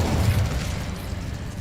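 An Incendio fire spell cast in Hogwarts Legacy: a brief low whooshing burst of flame that settles into a steady rumbling hiss, close and fairly loud, with no voices.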